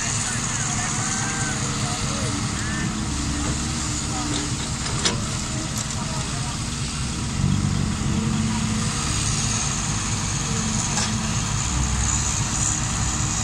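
A Fuso truck's diesel engine runs steadily while soil is loaded into it, a dense continuous rumble with clattering and scraping on top and a brief louder surge partway through.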